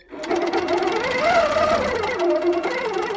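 A Sweet Sixteen sit-down quilting machine on an InSight stitch-regulation table starts up and stitches with a steady, close, mechanical whir that holds for a few seconds.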